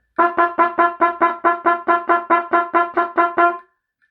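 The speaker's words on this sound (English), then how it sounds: "We will play this on a G, which is first position, but with firmer lips and faster air." An alto trombone plays repeated quavers on G in first position, about fourteen short, evenly spaced notes, close, bright and loud, with firm lips and fast air.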